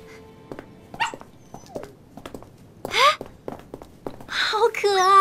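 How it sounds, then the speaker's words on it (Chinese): A small puppy gives a few high, thin yips and squeaky barks, close by and fairly loud, with soft voices and shuffling between the calls. "哎，好可爱啊，有一只小狗。"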